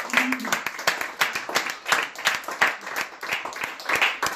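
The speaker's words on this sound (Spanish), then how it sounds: "Dele un aplauso al Señor." Clapping and applause from a church congregation at a Spanish-language evangelical service, a steady run of sharp hand claps at moderate distance, with voices mixed in among the claps.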